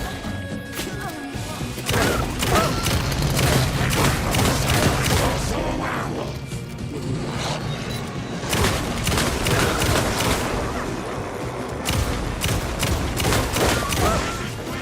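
Gunfire and heavy impacts from Alan Wake 2's Night Springs DLC, loud bursts of shots, crashes and thuds in clustered volleys across the stretch, with occasional voices mixed in.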